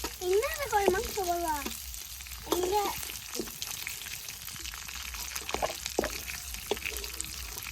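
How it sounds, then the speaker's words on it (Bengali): Fish frying lightly in oil, a soft, fairly quiet sizzle that runs steadily beneath a speaking voice, which is clearer in the first few seconds. "এখন মাছগুলো ভেজে নেই, মাছগুলো খুব হালকা করে ভেজে নিব"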